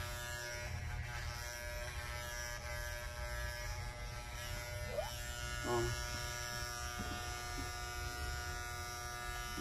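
Electric clippers buzz steadily and continuously while trimming a pet's fur during a home grooming session, with soft talking throughout.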